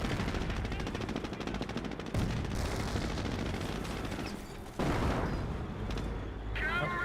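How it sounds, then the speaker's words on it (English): Mortar and other weapons firing in the World War II strategy game Company of Heroes, a dense continuous battle din of repeated shots and blasts, loud throughout with sudden jumps in intensity. "Mortar firing away."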